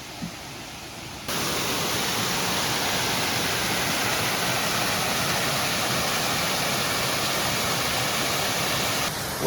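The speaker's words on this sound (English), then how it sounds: "that is a pretty nice little waterfall for Connecticut" A small waterfall on a hike near Dividend Pond in Rocky Hill, Connecticut, giving a steady, close, broadband rush of falling water that holds constant after a brief quieter start.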